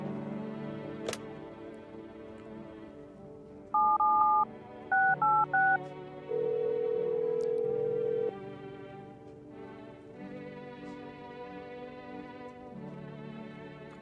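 A series of touch-tone telephone dialing beeps, two short groups of paired tones followed by one longer steady tone, sounding clearly over a low background hum.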